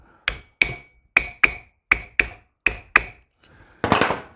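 Sharp metallic hammer strikes ring out as a metal bracket is straightened, a steady series of about ten hits, often in quick pairs, close and clear, ending with a noisier clatter.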